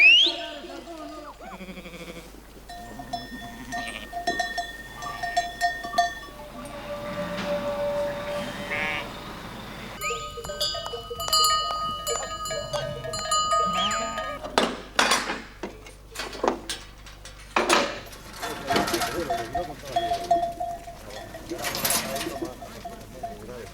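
A flock of transhumant sheep on a dehesa at Tolbaños de Abajo in Spain, waiting to be loaded onto trucks, with cowbells clanking and jangling continuously and occasional bleats, fairly close and busy throughout.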